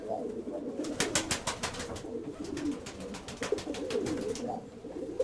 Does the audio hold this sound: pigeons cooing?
yes